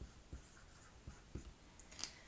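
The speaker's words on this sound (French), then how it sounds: "Moi, je l'écris." A pen writing out a simple subtraction calculation, with a few soft, quiet taps and short scratching strokes on paper over low room noise.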